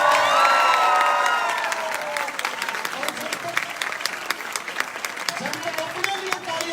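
Audience at a college song launch event clapping, dense applause with cheers that thins into scattered individual claps as voices speak over it near the end.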